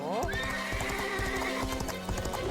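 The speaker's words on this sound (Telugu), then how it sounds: "గుర్రమే కిట్టిని తీసుకెళ్లిపోతోంది." A cartoon horse gallops with rapid, even clip-clopping hooves and lets out a long, drawn-out neigh on top, loud and close throughout the short stretch.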